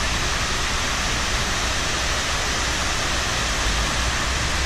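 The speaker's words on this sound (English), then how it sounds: "We actually have two fountains, one for each building." Water pouring continuously into the 9/11 Memorial fountains in New York, a dense, steady roar of falling water with no breaks, loud and enveloping, with no voices audible over it.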